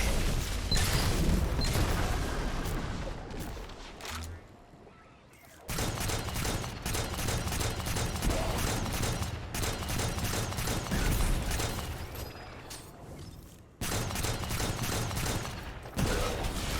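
Gunfire and grenade blasts from Destiny 2 gameplay in the Inverted Spire Grandmaster Nightfall, with dense, continuous bursts of shots and booms, a brief lull around the middle, then sustained heavy firing again.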